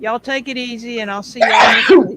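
A person speaks briefly, then a single loud, close sneeze bursts out at the end.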